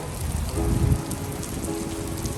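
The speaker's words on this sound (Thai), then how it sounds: "มาพร้อมกับฝนเลย เออมากับฝน" Steady rain patters on a surface outdoors, a dense continuous hiss at close range with no voices over it.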